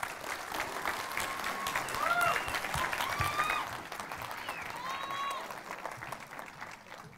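Fairly quiet applause from an audience at a Panasonic LUMIX camera presentation, scattered clapping with a few faint voices and whistles mixed in, tapering off over several seconds.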